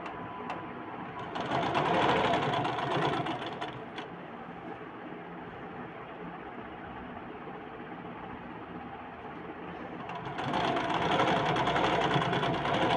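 A sewing machine runs a stitch along the edge of a blouse, its close mechanical whirr continuous throughout and swelling louder in two bursts near the start and end.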